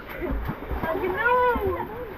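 Water gushes steadily from a tap-fed shower fountain at a lakeside resort cottage, heard as a constant splashing rush close by while people talk loudly over it.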